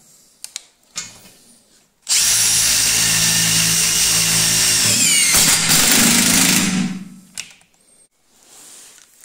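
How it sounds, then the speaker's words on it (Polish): A Makita DTD172 impact driver drives a self-drilling screw into thick sheet metal in a loud continuous burst of about five seconds that ends with the pitch dropping as it seats, preceded and followed by quiet handling clicks. "Tryb czwarty, też do wkrętów samowiercących do grubej blachy."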